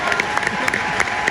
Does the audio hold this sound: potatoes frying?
no